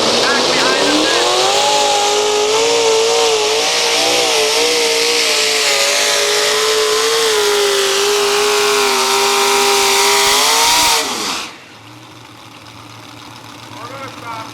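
A competition tractor at a truck and tractor pull roars at a sustained high rev for about eleven seconds, loud and close, then cuts off sharply and leaves faint crowd ambience.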